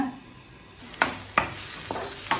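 Capsicum cooks in a covered pan with a soft, low sizzle, broken by a few sharp clinks or taps of a lid or utensil at irregular moments, close by.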